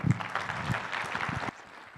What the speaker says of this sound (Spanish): Una vez más vamos a dar fuertes aplausos